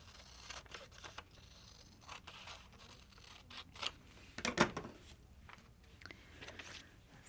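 Scissors trim the white border off a planner page, quiet close snips and paper rustles scattered unevenly, with one sharper cut standing out.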